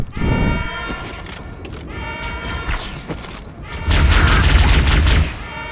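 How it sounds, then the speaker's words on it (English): Plasma pistol fire in the video game Halo 2, with loud bursts and booming energy shots amid busy battle effects, a heavier sustained blast near the end. "The overcharge plasma pistol shot no longer damages health at all."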